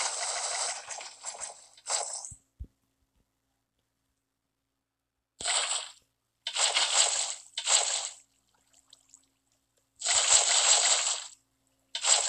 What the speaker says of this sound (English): pour in more water.